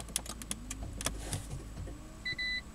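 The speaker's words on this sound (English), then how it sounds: "That's it, the car is now running." A Toyota Prius starting up: soft mechanical clicks and faint ticks inside the car, then two short electronic beeps near the end, with no engine roar.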